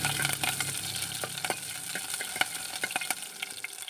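Chopped green chillies fry in hot oil for a vegetable kurma. The near, steady sizzle is punctuated by sharp crackles and pops, and there is no talk.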